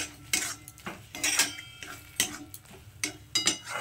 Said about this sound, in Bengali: এবার কাঁচা তেলটাকে খুব ভালো করে মিশিয়ে নেব।